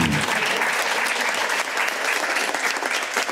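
A studio audience on a comedy quiz show bursts into loud, sustained applause, dense clapping that fills the whole stretch without a break.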